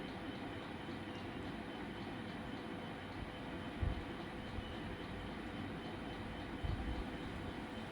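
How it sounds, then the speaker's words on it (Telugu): An airplane rolls along an airport runway as a steady, low rumbling drone heard from inside a cabin, with a couple of soft thuds and no talk. "రన్వే పైన వస్తూ ఉంది ఇప్పుడు ఫ్లైటు"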